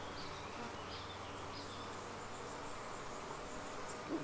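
A faint, continuous hum of many honeybees inside an open beehive fills the air, with soft higher chirps over a constant low drone. No talking.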